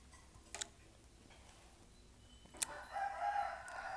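A rooster crows faintly in the distance, a drawn-out call rising near the end after a few quiet ticks and soft background noise, with no voices.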